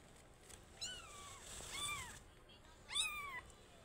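A cat meows three times nearby, short rising-and-falling cries with brief pauses between them, over faint background noise.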